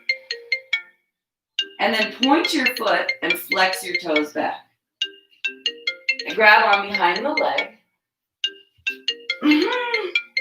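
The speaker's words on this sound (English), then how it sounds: "Pardon the phone call I'm getting." A mobile phone ringtone chiming in repeated short melodic bursts during a stretching class, close and clear, alternating with an instructor's calm spoken directions.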